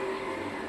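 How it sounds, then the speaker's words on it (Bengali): A water pump runs outside a home kitchen, giving a steady, unbroken droning hum with a faint rattle that fills the whole moment at an even level, with no voices. "আর বাইরে পাম্প চলছে,"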